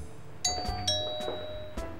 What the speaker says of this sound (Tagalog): Tumunog po yung doorbell.